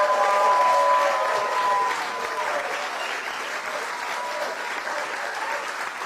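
A large crowd at a presidential event applauds loudly and steadily. The clapping fades slightly but carries on without speech.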